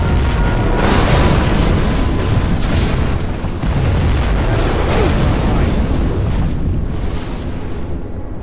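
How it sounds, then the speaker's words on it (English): Nuclear missile strike in the real-time strategy game Command & Conquer Generals Zero Hour, a loud sustained rumbling blast with rolling booms and debris that persists for several seconds. "We have launched our nuclear missile."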